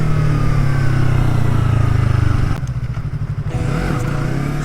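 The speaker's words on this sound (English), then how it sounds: "Oh, more downshifting. Front brake. Rev." A motorcycle, loud and close, drones steadily before its engine note drops as it downshifts, then revs back up in short surges while slowing under the front brake.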